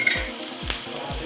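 Onion, green chillies and curry leaves sautéing in hot oil in a pan, with a steady sizzle and a few soft stirring scrapes repeating roughly every half second.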